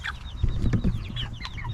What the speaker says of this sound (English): And inside we have all of our lovely chicks.